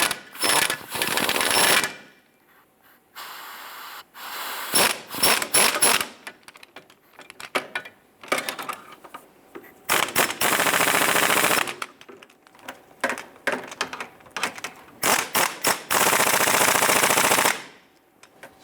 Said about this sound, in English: I'm going to tighten up our rear upper bolt next.